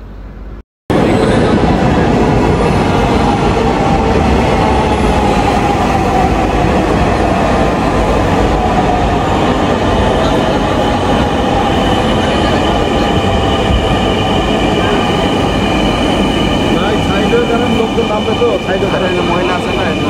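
A train pulls into a station platform in Bangladesh, a loud continuous rumble and rattle of carriages with some wheel noise, sustained throughout after a brief silent start.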